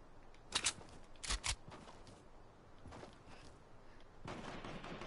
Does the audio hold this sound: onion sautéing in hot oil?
no